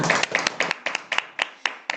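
A Korean church congregation at Sunday worship claps in a sparse, uneven rhythm of about a dozen distinct hand claps over two seconds, close and moderately loud.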